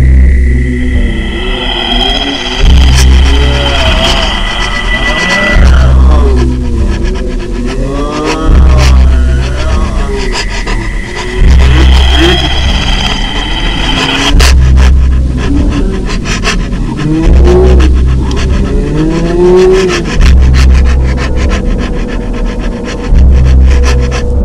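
A Backrooms Skin Stealers entity recording fills the space with loud, unsettling rumbles, groans and warped, rubbing mechanical tones that pulse in repeated swells throughout.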